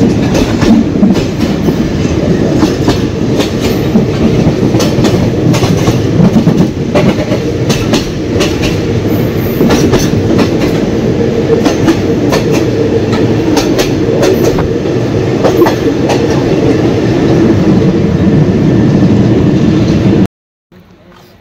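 A local train runs between Phuket and Bangkok in Thailand, its loud continuous rumble and rhythmic wheel clatter heard from on board. The noise stays steady for a long stretch, then cuts out abruptly near the end.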